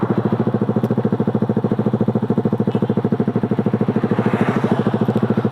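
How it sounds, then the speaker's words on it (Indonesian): A motorcycle fitted with an Eternal aftermarket exhaust idles close by, giving a steady, loud, rapid pulsing thump that keeps an even rhythm throughout. "Jadi suara idolnya seperti ini cuy."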